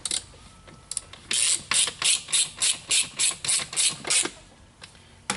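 A ratchet snugs down the throttle body bolts on a 2007 Mini Cooper S R56, giving about ten rapid, evenly spaced bursts of clicking close to the mic, then a pause.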